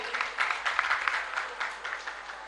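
Loud, sustained applause from an audience at a religious gathering with a Jain monk, clapping steadily for the speaker's in-law with irregular peaks throughout.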